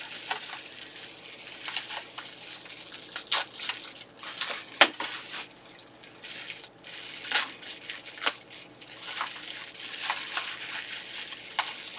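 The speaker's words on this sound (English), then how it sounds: "I'm going to cut this ugly bag off here" Scissors snipping and pulling away a plastic bag during an unboxing, giving crinkly crackling rustles with scattered sharper snaps, fairly close and moderately quiet throughout.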